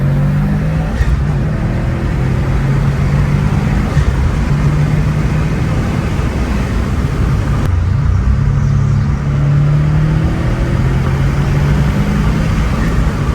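A 2019 Subaru WRX STI with an Invidia exhaust pulls hard in second gear, its steady loud engine rumble and exhaust drone heard from inside the car throughout, with no speech.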